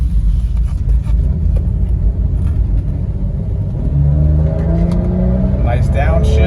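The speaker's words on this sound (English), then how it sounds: "we're going to do a decent little acceleration just to go through the transmission and engine." A 1997 Toyota Land Cruiser FJ80 engine pulls through a moderate acceleration, a loud, steady low rumble with rising whine as the transmission shifts, heard from inside the vehicle.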